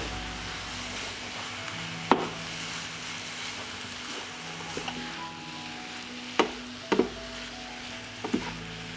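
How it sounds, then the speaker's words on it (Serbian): Onion, carrot and meat fry together in a pan, a steady soft sizzle running throughout, broken by several sharp clacks of a utensil against the pan. "Na povrće dodajem meso i pržit ću još 10 minuta."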